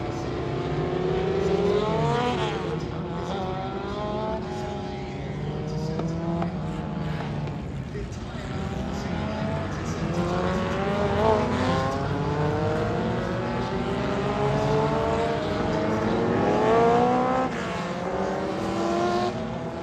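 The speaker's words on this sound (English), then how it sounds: "here comes the Lotus Parade lap" Lotus racing cars from the marque's 75-year history roll past on a parade lap at the Goodwood Revival, engines droning and rising and falling in pitch as one car after another passes, with a steady loud drone throughout.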